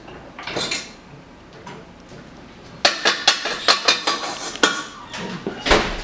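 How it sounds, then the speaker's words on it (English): Metallic clanks and knocks as a stand mixer bowl is lowered and the beater removed, a quiet stretch followed by a quick series of sharp clattering hits. "Lower the bowl. Take off the beater."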